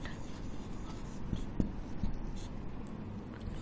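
Pen or marker writing on a board or paper, a soft continuous scratchy rubbing with a few slightly firmer strokes, close and steady, with no talk over it.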